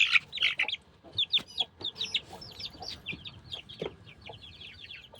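Chicks of a yellow rooster cheeping in quick high chirps and short trills, with a few lower clucks mixed in, close and continuous with no talking.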